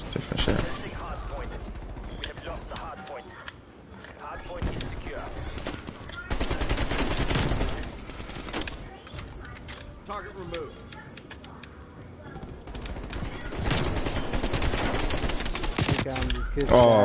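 AK rifle fire in the shooter Black Ops Cold War, with rapid bursts of close, loud shots broken by short pauses over about seventeen seconds while a person talks.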